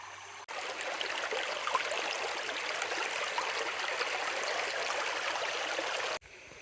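Water from the MG Jharna waterfall and stream in Chattogram rushes in a steady, full, close-up roar that continues unbroken until cutting off near the end.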